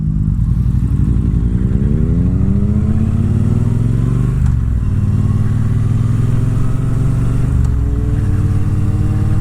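Triumph motorcycles, a Bobber Black and a Street Triple RS, ride along backroads, their engines droning loud and close with steady rising and falling revs throughout.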